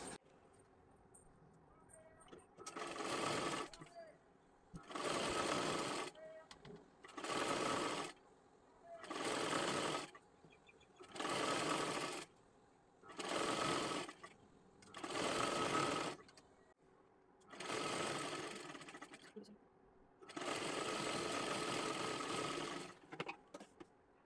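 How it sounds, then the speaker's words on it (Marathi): Electric sewing machine stitching the sleeve edge of a girl's frock, running in about nine steady bursts of a few seconds each with short pauses between, close and clear. "इथे एकदम कडेकडेला पूर्ण खालच्या बाजूला आपल्याला शिलाई करून घ्यायचं आहे"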